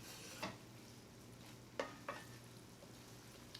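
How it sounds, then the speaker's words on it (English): White wine pasta sauce is stirred in a pan over a low simmering sizzle, with three or four short scrapes and clinks of the utensil against the pan, quiet and close. "And I'm gonna give this a stir"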